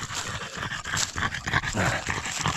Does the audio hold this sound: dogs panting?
yes